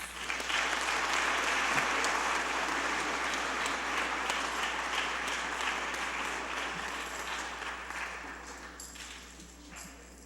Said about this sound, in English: Please join the board in applauding these students on their outstanding accomplishments.